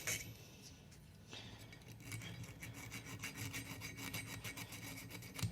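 A hand file rasps back and forth along the edges of a handmade Bebb jaw harp, smoothing rough metal in a steady run of close, scratchy strokes that grows busier and louder after the first second.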